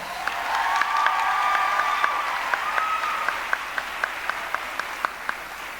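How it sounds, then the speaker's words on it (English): A crowd applauds at a fifth-grade graduation ceremony, a dense wash of clapping that gradually thins out, with a faint tone running underneath. "Let's give them a big round of applause."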